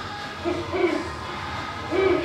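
An animatronic owl on Disney World's Tom Sawyer Island hoots in a few soft, low, repeated calls over steady outdoor ambience, at moderate volume with no talking.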